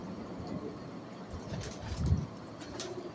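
Pigeons in a home breeding setup, including a pair of a named breed, give soft low coos against a breezy outdoor background, with one fuller coo rising near the middle.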